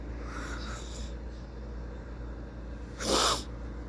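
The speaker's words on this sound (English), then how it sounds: "I stopped myself from sneezing." A stifled sneeze bursts out near the close, a short, loud, breathy snort standing alone over a steady low background hum, with a fainter muffled huff earlier on.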